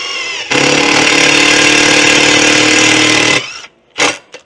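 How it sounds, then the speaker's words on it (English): A Milwaukee drill-tap bit whines steadily through steel for about three seconds at close range, then cuts out, followed by a brief short burst. "which not only drills your holes, but also taps it as well"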